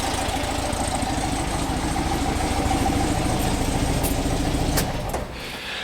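Vintage Farmall A tractor fitted with dual wheels, its engine idling steadily nearby with a rough, even chug throughout, dropping slightly in level near the end.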